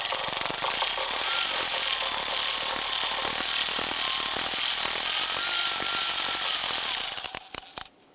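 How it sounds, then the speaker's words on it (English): A ratcheting tool whirs continuously close by while backing out oil pan bolts on a 2002-2008 Dodge Ram 1500 using a 10mm socket with swivel and extension, then stops abruptly near the end with a few sharp knocks. "Using our 10mm socket, swivel and extension, let's go ahead and do that."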